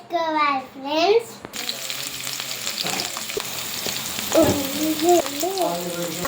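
Onions and green chillies sizzle in hot oil for egg rice, a steady frying hiss throughout with stirring, while a voice talks over parts of it.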